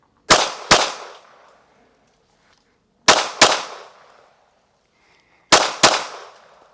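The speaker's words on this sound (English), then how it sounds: "controlled pairs from a distance of 5 yards" Three quick pairs of sharp shots from a Derya DY9 pistol fired on an outdoor range at 5 yards, each crack ringing out with a short decay and roughly two seconds between pairs.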